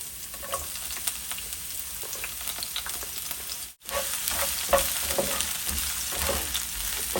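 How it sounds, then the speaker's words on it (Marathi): Chopped onion hitting hot olive oil in a pan, a steady bright sizzle with small crackles and pops, briefly cut off near the middle before resuming at full strength, close and continuous with no voices. "तेल तापलेलं आहे, यात आपण कांदा घालूया।"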